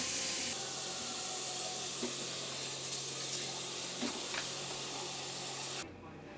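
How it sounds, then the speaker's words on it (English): Tap water gushes in a steady, loud hiss into a big cooking pot, running continuously before shutting off abruptly near the end, leaving a quiet room tone. "So I'm just taking this big pot right here, fill it with some water."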